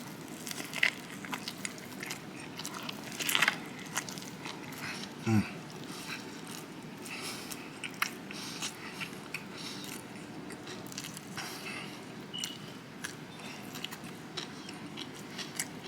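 Crunchy bites into a crispy pork belly banh mi on crusty bread, a few sharp crackles followed by quiet, soft chewing in a calm indoor setting.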